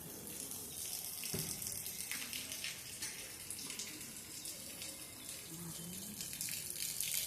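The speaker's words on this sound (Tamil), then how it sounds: "இங்கேருந்து மழை பெய்யுது பாருங்க." A steady, dense hiss of pouring water, like heavy rain falling and splashing, continues throughout with faint voices in the background.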